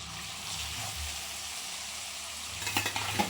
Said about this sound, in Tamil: இப்படி எல்லா மீன்களையும் நம்ம பொறிச்சு எடுத்துக்கலாம்